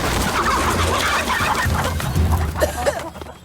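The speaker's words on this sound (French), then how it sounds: "Les poules effrayées sont totalement imprévisibles." Agitated chickens cluck and squawk in a dense, continuous flurry, close and loud, with sharper alarmed cries near the end as the commotion thins out.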